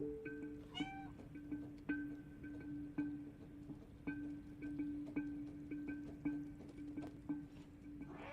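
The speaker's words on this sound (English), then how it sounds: "I can also meow during the cat cutscenes" A cat meows repeatedly in the video game Stray, a rising call followed by a steady run of short, evenly spaced meows over a low background hum, with no one talking.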